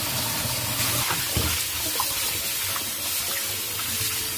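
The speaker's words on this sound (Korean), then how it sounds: "그럼 먼저 이제 씻어 볼게요" Eomnamu (prickly castor-oil tree) shoots rinsed under running tap water, a steady close splashing and trickling with light handling bumps, no talking.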